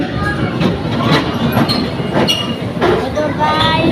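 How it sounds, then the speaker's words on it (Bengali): Train at a railway station, a steady rolling rumble with faint clattering and occasional squeaks, heard close and continuous while people talk nearby. "এইটা রেল স্টেশন"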